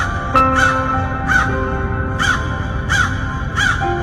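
A crow caws repeatedly, about six harsh calls spaced roughly evenly, loud and close, with no talking.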